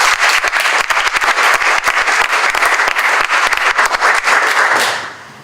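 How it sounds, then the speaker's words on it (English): A room of attendees at a school district career and college pathways summit gives a loud, continuous round of applause that fades out in the final half second. "So a little round of applause before we move."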